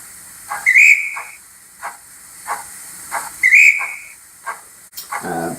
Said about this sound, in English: F14 is brass whistle